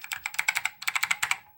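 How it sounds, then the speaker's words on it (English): Typing on a Matias FK101 half-QWERTY mechanical keyboard with White Alps switches: a close, brisk run of sharp clicky keystrokes in two bursts with a short pause between, with no voices. "Matias Corporation half QWERTY keyboard, model FK101."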